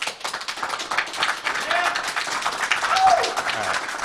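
A live convention audience at GuardianCon 2018 applauding during a Destiny raid vote for Vault of Glass, a dense crowd of hands clapping steadily for several seconds with some voices mixed in.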